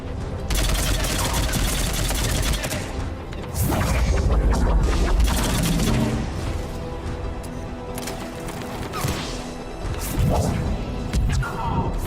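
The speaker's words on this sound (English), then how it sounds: "This is almost like a heavy machine gun." Heavy machine gun fire and crashing impacts in a video game battle, loud and dense throughout, with irregular booms and smashes layered over the shooting.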